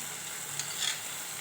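Onions, plantain and yam sautéing in a pan: a soft, continuous sizzle with a couple of light scraping stirs, quiet and close, with no voices.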